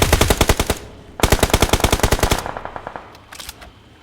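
Automatic gunfire in PUBG Mobile (BGMI) during a fight in Pochinki, two loud rapid bursts of shots followed by a few scattered distant rounds.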